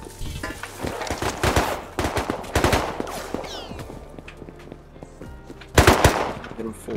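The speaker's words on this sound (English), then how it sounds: "I'm just gonna continue shooting." Rapid bursts of gunfire in the video game Rust rattle out in several clustered volleys, with heavier shots near the end, over faint game ambience and occasional voices.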